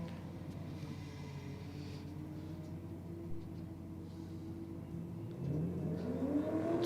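A High Comp Performance VY Commodore race car rolls out at a drag racing event, its engine note droning steadily under crowd ambience before rising in a revving sweep near the end.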